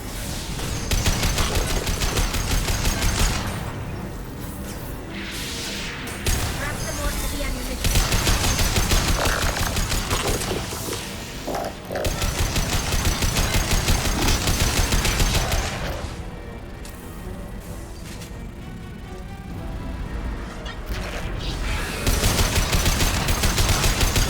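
Heavy weapons fire in Mass Effect 2, loud sustained bursts of automatic gunfire and blasts that rage almost continuously with brief lulls, mixed with battle noise and occasional voices.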